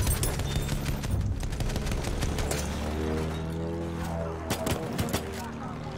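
Sniper gunfire in a video game, aimed at a player named George, crackles as scattered sharp shots over a dense, noisy battle bed, with steady tonal hums and voices talking throughout.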